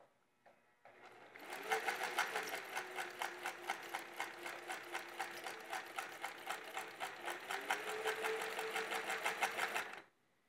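A vintage Singer 403a sewing machine running a chain stitch, its needle clattering in a fast, steady rhythm for about nine seconds, close and clear with no talking.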